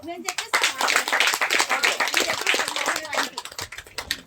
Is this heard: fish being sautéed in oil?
no